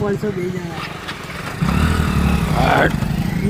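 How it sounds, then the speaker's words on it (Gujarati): A motorcycle carrying riders runs close by, its engine droning steadily and then growing louder and rougher as it revs, with people talking over it. "હવે નીલો બાઈકે હું ભાવિન ને જીગો અમે ત્રણ જણા બાઈકે તો નીકળીએ"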